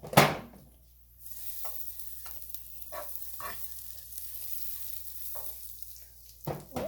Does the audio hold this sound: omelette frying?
yes